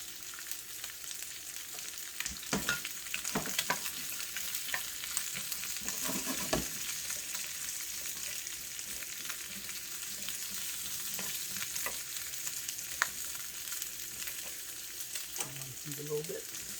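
Noodles and onions stir-fry in a half-full wok, a steady loud sizzle running throughout with occasional scraping and stirring knocks from a utensil.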